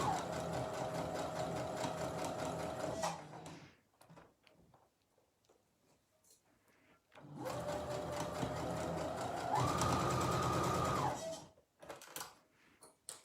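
A sewing machine stitches pom-pom trim onto fabric for a door stop and draft excluder, whirring in two steady runs of a few seconds each with a quiet pause between, close and fairly loud.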